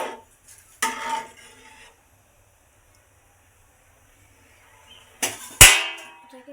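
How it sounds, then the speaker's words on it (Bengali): Rice for homemade chicken biryani gets stirred in a pot: a brief scrape and rattle of a spoon, a long quiet stretch, then more clatter ending in a sharp metallic clank against the pot. "চলো ভাতটাকে এখন একটু নাড়িয়ে নিই।"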